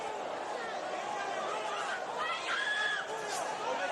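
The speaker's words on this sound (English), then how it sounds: "Crowd getting excited." A boxing crowd at the Magsayo vs Ceja fight sends up a steady, swelling roar of chatter and shouts that carries throughout, with a few sharper calls rising near the end.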